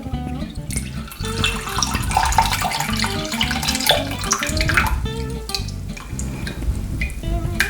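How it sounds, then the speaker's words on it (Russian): Buttermilk poured and strained through a sieve while making English scones, a steady splashing trickle of liquid with soft clinks, close and continuous, no talking. "Обязательно необходимо пахту процедить."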